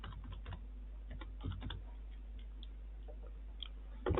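Computer keyboard typing, a run of soft quick key clicks in irregular bursts with short pauses, faint and close over a low steady hum, with no talking.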